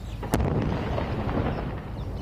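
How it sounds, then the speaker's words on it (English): Explosions in Gaza during renewed Israeli strikes, heard as one sharp distant blast followed by a long, low, rumbling roar that carries on without talk. "Smoke seen and explosions heard in Gaza again."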